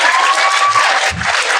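Loud audience applause fills a short stretch, dense and steady clapping from a large crowd with a few low thumps, heard close and alone.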